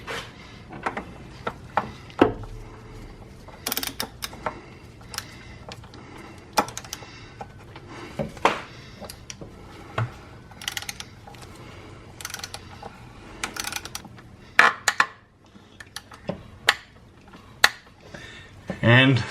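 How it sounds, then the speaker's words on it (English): A torque wrench tightens the oil drain plug on a 2017 Jeep JK, producing scattered close metallic clicks and clacks in an irregular pattern, with someone talking over parts of it. "as you can hear the click on the torque wrench"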